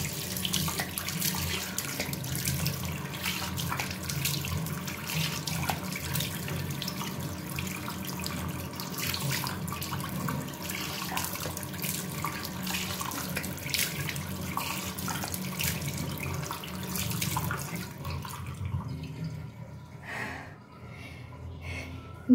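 Tap water runs steadily into a sink while a face mask is rinsed off the skin during a skincare routine, a continuous close splashing that fades out near the end.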